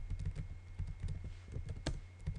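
Rapid typing on a computer keyboard with an unfamiliar feel, keys clattering in quick irregular bursts with a steady low hum beneath, close and fairly quiet.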